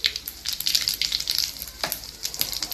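Cumin seeds hit hot oil in a kadhai where mustard seeds are already crackling, giving rapid close crackles and pops over a light sizzle. No talk is heard.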